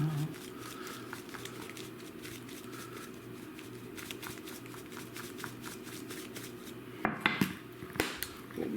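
Steak rub spices and paprika are mixed in a bowl, giving a steady light scraping and rattling with a few sharper clinks near the end, close and moderately loud.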